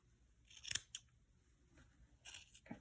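Scissors snip through the yarn loops of a crochet pompom scarf, a few close, crisp cuts in two short bursts separated by a quiet pause.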